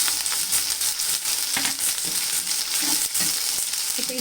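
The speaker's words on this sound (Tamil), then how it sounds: "இந்த டைமில் நம்ம இஞ்சி பூண்டு பேஸ்ட்டு இதோடு சேர்த்துக்கலாம்" Ginger garlic paste sizzles and fries with onions in a hot pan while crab masala is being cooked, with a steady crackle and occasional stirring scrapes close by and no one talking.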